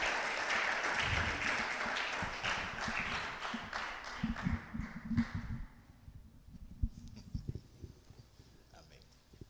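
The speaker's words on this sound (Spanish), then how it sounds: "Vamos a recibir con un fuerte aplauso a nuestra querida hermana" A church congregation applauds loudly at first, the clapping thinning into scattered claps and footsteps before fading out.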